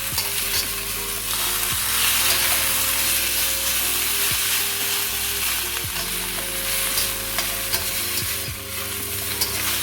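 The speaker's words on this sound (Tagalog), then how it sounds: "we want to stir fry this one to add some flavor" Continuous sizzling and crackling of vegetables frying in a hot pan, with occasional scrapes and clicks of stirring throughout, close and fairly loud.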